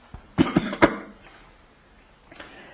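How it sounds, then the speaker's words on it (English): A man coughs in a quick cluster of three harsh bursts close to the microphone, followed by quiet and a faint throat-clearing sound near the end. "I've got a cough."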